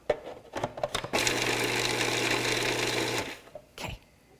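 Food processor whirring steadily for about two seconds as it blends mint pesto, close and loud, framed by clattering handling noises before and after.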